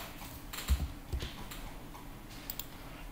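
A few scattered key presses on a computer keyboard, soft clicks spaced irregularly against a faint background hiss, while entering values in Mastercam X8 software.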